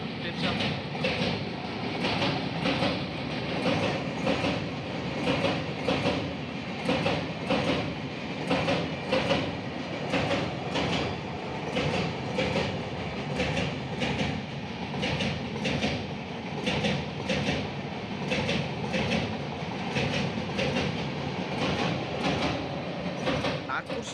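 A slow passenger express train runs on rails on the approach to Bilaspur in India, with a steady rumbling roar and repeated clickety-clack beats from the wheels over rail joints, heard from on board for the whole stretch.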